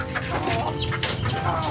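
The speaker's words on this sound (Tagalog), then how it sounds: "mga manok ko." Backyard chickens cluck and chatter close by in a busy, overlapping flock, with repeated sharp calls and murmuring clucks over a steady low rumble.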